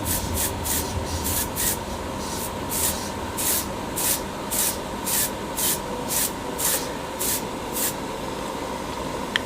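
Airbrush spraying clear coat onto a small Zaku model weapon, steady close hiss broken by about a dozen evenly spaced bursts of spray, with no talking.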